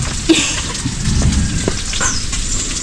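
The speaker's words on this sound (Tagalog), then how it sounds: "Naangamoy na yung prito natin." Oil sizzles and crackles steadily as food fries in a pan, close and loud, with no voices.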